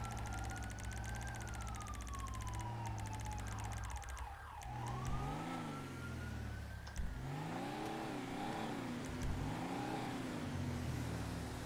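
An off-road vehicle engine idles loudly nearby and rises and falls through several revs, with a steady whining tone running over the rumble.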